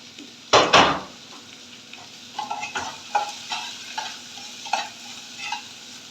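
Onions fry in a pan with a low steady sizzle, opened by a sharp metallic clatter and followed by a series of spoon scrapes and stirs against the pan.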